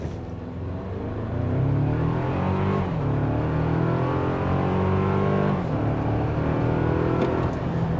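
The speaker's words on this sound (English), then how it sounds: "Let me go ahead and see what we can do 0 to 60 wise right now." A 2024 Toyota Tacoma TRD pickup in sport mode launches from a brake-torque start and accelerates hard from 0 to 60 on a downhill road, its engine rising loud and close through several gear changes inside the cab.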